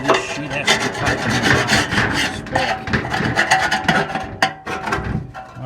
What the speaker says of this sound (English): Well, I'll finish scraping this roughly